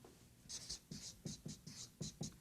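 Pen or pencil writing words on a surface, scratchy strokes in a steady rhythm of short bursts, close and fairly quiet, with no talking.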